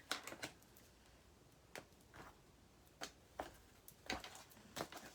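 Tarot cards being shuffled by hand, a quiet scatter of soft riffling bursts and brief flicks spaced irregularly over a few seconds, faint and close with no talking.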